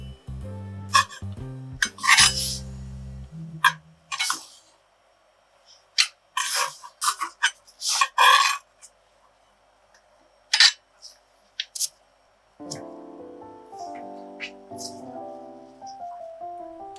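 Mushrooms sliced with a kitchen knife on a cutting board for Napolitan pasta, a run of sharp, close taps and scrapes spaced irregularly, with quieter board knocks and a low hum rising toward the end.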